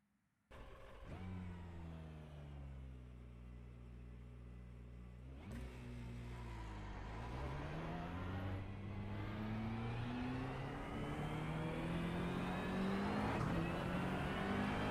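A GT3 race car engine in a racing video game set at Mount Panorama, Bathurst, starts up and climbs through the gears with steady, rising revs that grow louder and more strained, with no talk over it.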